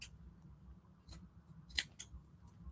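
Ordinary non-fabric scissors trim paper for a vintage junk journal, giving a few quiet, close snips spaced irregularly over a soft low background.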